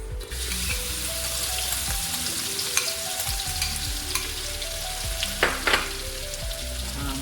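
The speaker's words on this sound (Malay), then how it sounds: "Okey, mari kita menumis." Genjer sizzles steadily in a hot pan with anchovies and belacan while being stir-fried, a close, continuous frying hiss broken by occasional scrapes and clinks of the spatula against the wok.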